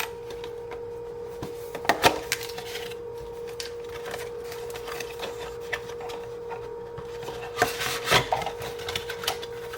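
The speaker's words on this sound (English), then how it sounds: "no fancy iFixIt stuff to open the box. Just 50-year-old X-Acto knife blades" A plastic box from a PowerTime USB dock being pried open with old X-Acto knife blades: scattered small scrapes, clicks and creaks of blade against plastic over a steady hum, faint and intermittent.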